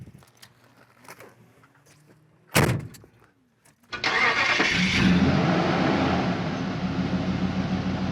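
A 1987 Dodge Ramcharger door shuts with one solid thump after a quiet pause. The engine then cranks and catches into a loud, steady running rumble that continues to the end.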